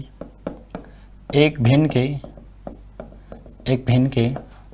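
Marker or chalk writing questions on a classroom board during a percentage arithmetic lesson, short scratchy strokes tapping and squeaking close by while a teacher talks over them.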